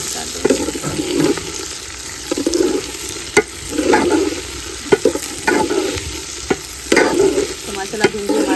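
Okra sizzles and fries in a pan while a utensil stirs it in repeated bursts, with steady frying hiss underneath and scraping strokes coming every second or so, close and fairly loud, with no voices.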